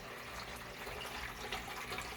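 Water trickling through a fish tank system in a fish room, a soft, steady, bubbling flow heard close up and fairly quiet, with no talking.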